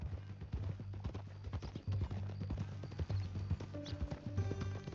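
Horse hooves clip-clop steadily in Red Dead Redemption 2, a close, rhythmic series of hoof strikes over a low musical drone, with a brief snort or whinny near the end.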